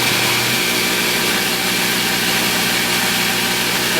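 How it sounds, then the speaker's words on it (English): A Wilmont LB1000 knife grinder runs steadily after being switched on, giving a loud, continuous motor whir with a broad hiss and a constant low hum, no voices over it. "And then turn on the grinder."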